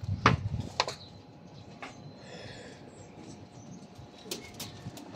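Pet pigeons kept by a fancier flap their wings in a few sharp bursts near the start, then soft cooing and faint chirps follow at a distance, fairly quiet with no talk.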